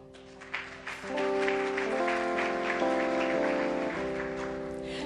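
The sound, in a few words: audience applauding and cheering at a church service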